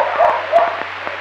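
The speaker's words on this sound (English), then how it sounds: "Just got a few dogs and they bark like mad when anyone comes round" Several dogs in the Philippines bark in short, repeated yips and woofs from a little distance, rising over a steady low electrical hum.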